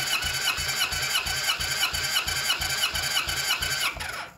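A 1978 Kawasaki KZ1000-D2 (Z1-R) motorcycle engine is cranked over by its starter, giving a steady, rapid, rhythmic chugging with a whirring whine on top. It is close and loud throughout and stops near the end.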